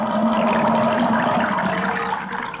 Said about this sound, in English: pulled the ocean plug,